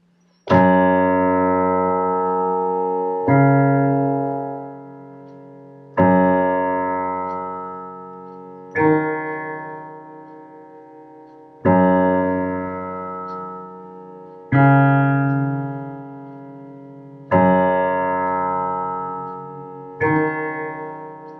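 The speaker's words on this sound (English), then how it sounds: "I'm going to put down the pedal for the whole time right here, so you can hear how the accompaniment pattern would sound on its own" Piano accompaniment pattern played with the sustain pedal held down throughout, eight rich chord attacks at a steady slow pace, each ringing on and overlapping the next, loud and alone.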